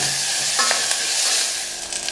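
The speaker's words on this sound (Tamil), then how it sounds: "போட்டுட்டு இதை லைட்டாக வதக்கி விட்டுறலாம்." Green chillies, dried chillies and curry leaves sizzle in hot oil as they are sautéed, a close steady crackle broken by a few sharp scrapes of stirring, with no talking.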